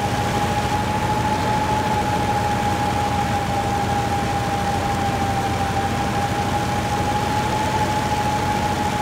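A heavy truck engine in Spintires MudRunner, roaring in a loud, steady drone with a constant whining tone on top, close and continuous without any talk.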